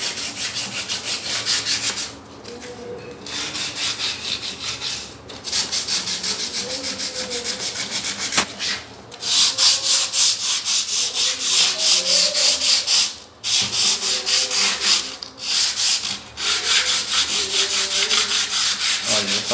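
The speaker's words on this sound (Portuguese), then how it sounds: "agora a gente vai passar a lixa número 220 para dar uma alisada" Wooden door being sanded by hand with 220-grit sandpaper to smooth it before lacquering, a continuous close scratchy rubbing in steady back-and-forth strokes with brief pauses, no talk.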